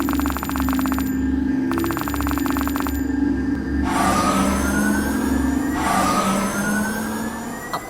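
An ambulance siren wails in the Kick The Buddy video game, loud and continuous with rising sweeps layered over a steady electronic ringing tone and low engine drone, no talk.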